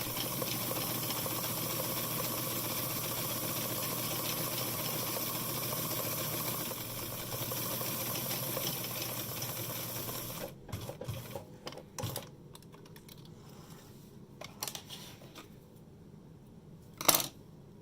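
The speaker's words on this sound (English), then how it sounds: "I'm just going to do my top stitching along this strap edge." A sewing machine topstitches along the edge of a leather strap for a harness with a steady close whir for about ten seconds, then stops, followed by scattered light clicks and handling noises.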